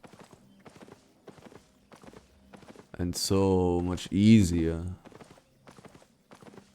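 Repeated light clip-clop hoofbeats from a Gallant Horse mount in Albion Online, set against a louder burst of voiced sound in the middle, with a person speaking briefly.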